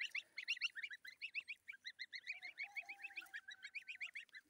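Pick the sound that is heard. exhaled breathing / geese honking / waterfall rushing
geese honking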